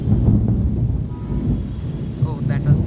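Thunder from a monsoon storm in Hyderabad rolls as a deep, continuous rumble, loud and enveloping, with a faint hiss of rain and wind beneath it and a brief voice near the end.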